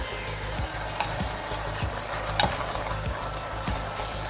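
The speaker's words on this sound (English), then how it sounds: "Now we're gonna mix it very well." Green beans with crushed tomato and dry basil get stirred in a pot, a steady low scraping and gentle sizzle with soft clinks of the spoon at a regular pace, close and alone.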